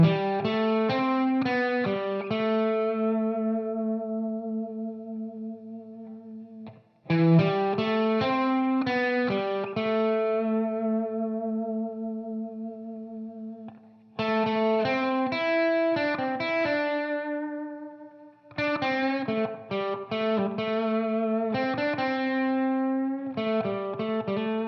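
Clean electric guitar plays a melody as a solo line, close and clear, in four phrases of repeated picked notes separated by short pauses.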